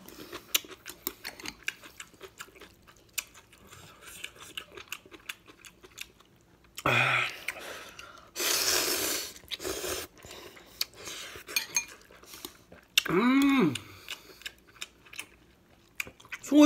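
Instant ramen noodles are eaten with cutlery. Sparse soft clicks and chewing sounds are broken by a few louder bursts of slurping or scraping at close range.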